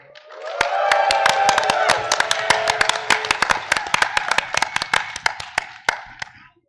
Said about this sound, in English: can I get a big cheer from the audience for all the people watching on the stream as well?